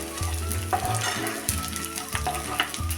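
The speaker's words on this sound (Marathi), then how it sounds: "अजून एक मिनिटवर परतून हा आपण आता काढून घेऊया" Edible gum frying in hot ghee in a pan, a steady close sizzle with scraping stirs and spatula knocks recurring every second or so.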